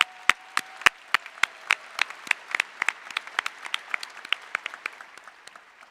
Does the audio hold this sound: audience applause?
yes